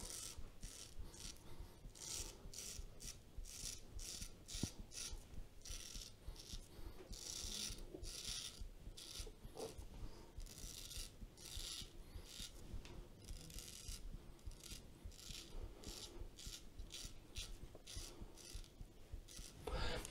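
A razor scrapes through two-day stubble in steady, repeated scratchy strokes, each one a short rasping burst with brief gaps between, close and fairly even in loudness, with no talking.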